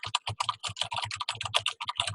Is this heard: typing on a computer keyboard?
yes